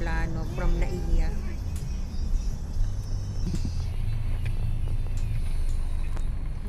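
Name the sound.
heavy road traffic on the skyway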